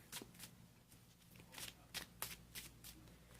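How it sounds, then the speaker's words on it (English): A deck of Pokémon trading cards riffle-shuffled close by, several quick rasping bursts in a rapid, uneven rhythm, fairly quiet with no speech. "I thought I'd just shuffle off camera"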